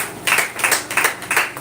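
A small audience gives a speaker a brief round of applause at a gathering, a few separate bursts of clapping that swell and fade in quick pulses.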